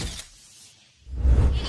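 Car window glass shattering during a police arrest after a chase and wreck, a sudden loud crash and crunch arriving about a second in, following a brief hush and a faint earlier knock.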